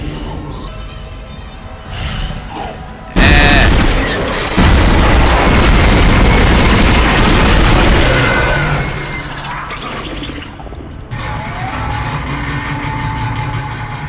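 Dead Space sci-fi survival horror: a weak, disliked weapon fires in loud bursts, with heavy booming blasts and rumbling engine-like hum over ambient game noise, no speech.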